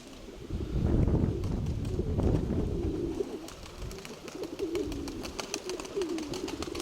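Pigeons, among them a grey speckled hen, coo in low repeated phrases close by, their calls coming through a gusty rush of wind noise on the microphone.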